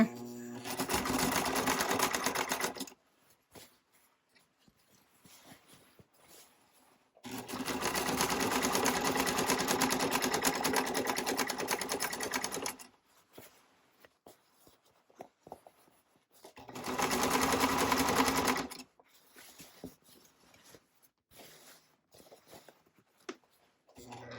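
A sewing machine with a heavy-duty needle stitches through many layers of fabric on a classic tote bag, running in three sustained bursts separated by quiet pauses.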